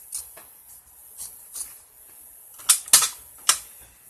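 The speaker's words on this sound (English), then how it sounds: "Now I'm going to cut around my patch, not close yet." Scissors cut fabric around an embroidered patch, giving soft close snips that grow into three or four sharper crisp cuts toward the end, with no talking.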